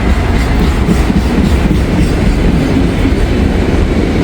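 An empty freight train of articulated auto rack cars rolls past on the tracks, a loud, steady rumble of wheels with a clickety-clack rhythm running throughout and no voices.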